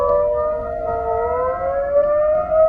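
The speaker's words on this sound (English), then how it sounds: "setting off every emergency siren in Dallas, Texas at once, in the middle of the night" Emergency civil defense sirens wailing across Dallas, Texas at night, a sustained steady tone with several layered pitches slowly rising, loud and continuous with no voices.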